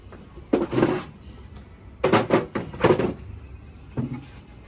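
Drawers are shifted and moved while a room is organised, giving a few rattling, scraping bursts of wood and metal at close range with quiet gaps between them.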